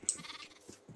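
Sheep bleating in the Minecraft video game, a few short nasal bleats over quiet background, fairly soft and close with no talking.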